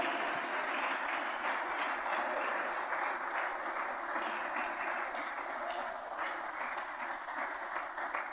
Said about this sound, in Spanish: Si vas a aplaudir, aplaude.